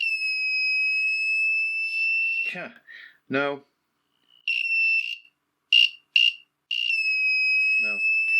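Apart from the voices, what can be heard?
electronic buzzer sounding in a resistor circuit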